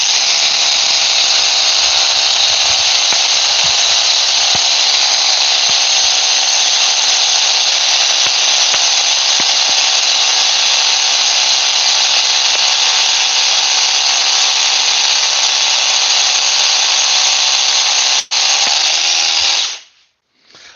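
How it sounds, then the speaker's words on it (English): A Bosch rotary hammer drills steadily into material, a loud, close, constant grinding whine that lasts about twenty seconds before cutting off abruptly, with no talk over it. "Bosch, by the way, makes the best rotary hammers"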